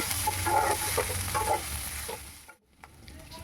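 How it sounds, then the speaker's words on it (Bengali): Onions sizzle steadily in a hot pan with occasional stirring scrapes, fairly close, before the frying briefly cuts out near the end. "দেখতেই পাচ্ছেন পেঁয়াজ প্রায় ভাজা হয়ে গেছে"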